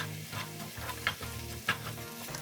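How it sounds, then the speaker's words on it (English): Kimchi and meat stir-frying in a pan over medium heat give a steady, close sizzle, with a few soft scrapes and clicks of stirring over about two seconds. "Stir fry for 2 to 3 minutes over medium heat rather than high heat."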